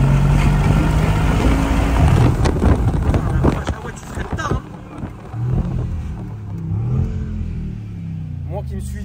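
A car in Sport Plus mode accelerates hard, its engine revving loudly and rising through the first few seconds before easing into a lower drone, with people talking over it.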